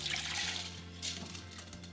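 Water drains steadily from overnight-soaked sweet rice being strained for Korean yakbap, a close, continuous trickle and splash with no talking.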